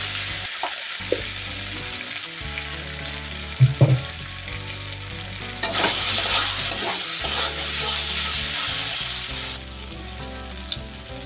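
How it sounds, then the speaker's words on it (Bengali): Spice masala sautéing in a pan for an egg-coated cauliflower kabiraji, a loud continuous sizzle with occasional stirring scrapes and a brighter hiss swelling midway before easing off. "আমাকে এটাকে সুন্দর করে কষিয়ে নিতে হবে"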